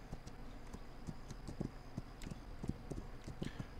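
Horse hooves clip-clop in a steady walking rhythm on the ground in a Wild West video game, quiet and close, with no talking.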